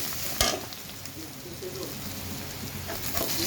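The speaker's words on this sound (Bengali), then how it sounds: "মশলাটা কষানো" Ground spices with onion, turmeric, chili, cumin and ginger-garlic paste frying in a pan for a mango and catla fish curry, a steady sizzle broken by a few sharp scraping stirs.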